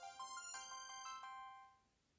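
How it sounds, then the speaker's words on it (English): A cell phone powering on plays a short startup melody: a quick run of bright electronic tones that fades out after about two seconds, heard alone with no talking. "So I'm going to turn the cell phone on now"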